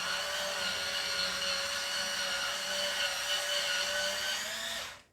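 A cordless electric scrubber brush whines at a steady high pitch with a slight wobble for about five seconds, then spins down and cuts off.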